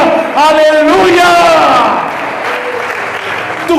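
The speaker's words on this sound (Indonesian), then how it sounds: "Beri tepuk tangan yang panjang kepada Tuhan." A church congregation at a Christmas service gives long, sustained applause, a steady wash of clapping under a loud, melodic voice.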